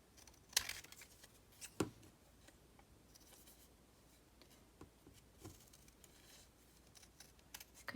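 Sparse snips of scissors cutting paper, a few short crisp cuts spaced apart over a quiet background.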